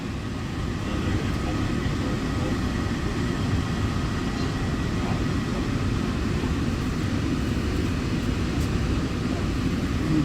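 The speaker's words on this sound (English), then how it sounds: "We're on Monorail Coral. Departing momentarily." A Walt Disney World monorail rolls through the resort, a steady broadband rumble and rush heard from inside the car at constant loudness, with faint murmuring in the background.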